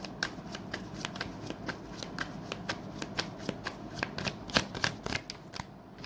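Tarot cards being shuffled to draw one more card during a reading: a continuous run of soft, rapid riffling and flicking close up, with light irregular snaps and no talk.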